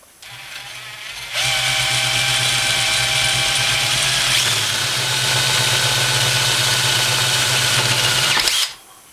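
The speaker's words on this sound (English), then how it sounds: "with a slow drill." A slow power drill enlarging a hole in a drum shell, whirring steadily for about seven seconds with a low hum underneath, starting and stopping abruptly, close by and without speech.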